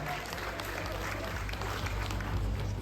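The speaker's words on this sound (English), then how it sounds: "Big round of applause for Samiksha Baglas, food blogger, arguably the best food blogge" Audience applause at an awards event, continuous clapping from a crowd at moderate distance over a steady low hum, with no clear breaks.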